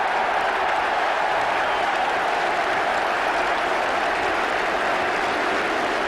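A stadium crowd at a 1981/82 Watford v Leicester football match applauds a goal, giving loud, continuous, dense clapping and roaring that holds steady throughout.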